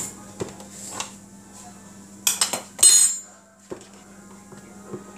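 Spoon clinking and scraping against dishes and a pan in a kitchen while making pizza, with scattered light taps and a burst of clattering knocks midway over a low hum.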